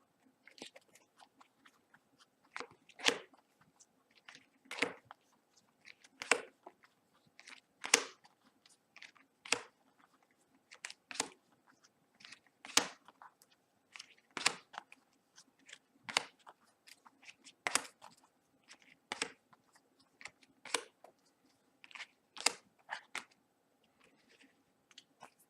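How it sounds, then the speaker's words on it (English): A trading card deck in Player's Choice sleeves is power shuffled, with sharp, crisp riffling snaps repeating every second or so, close and distinct against near silence. "I guess I'm gonna power shuffle and then do maybe some test hands"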